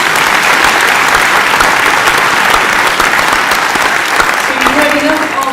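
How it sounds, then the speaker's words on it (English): An audience at a sports awards evening applauding a guest presenter, loud and continuous clapping filling the room, with a voice rising briefly underneath near the end. "So please give our guest presenter a round of applause, please."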